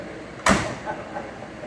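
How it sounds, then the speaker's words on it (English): A car door on a 1957 Ford Skyliner E Code retractable hardtop swings shut with a single firm, solid thud, followed by faint settling sounds and quiet background at an outdoor car show. "I like the way how the door closes"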